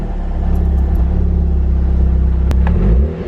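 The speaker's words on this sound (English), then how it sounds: "I'm gonna start the car." A VW Golf R MK6 with a big turbo, burning oil and showing electrical faults, runs at a steady low idle after starting, with a loud rumbling drone and a short sharp click near the end.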